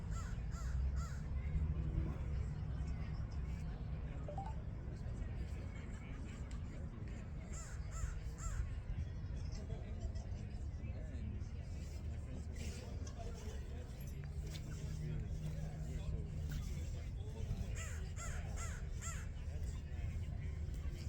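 Crows caw repeatedly outdoors over steady traffic rumble, with people talking faintly in the background.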